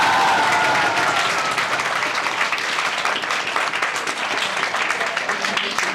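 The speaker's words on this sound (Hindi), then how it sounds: "फिर एक बार जोरदार ताली बजाओ लोग के लिए" Loud applause from a crowd at a coaching institute's JEE Mains result celebration in Patna, steady dense clapping with a little crowd noise mixed in, continuing throughout.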